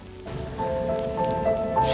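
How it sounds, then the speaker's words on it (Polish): Rain returning in a forest, falling steadily on leaves and ground as a soft, continuous patter with no voices. "powrót deszczu, miejmy nadzieję, że znów przelotnego, staram się ignorować"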